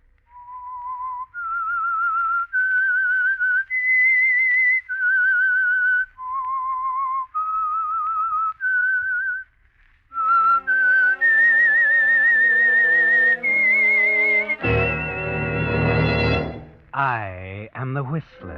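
A lone whistler carries a slow, eerie melody as the signal tune of The Whistler radio mystery drama, clear sustained notes with brief pauses, and an orchestral sting swells in near the end.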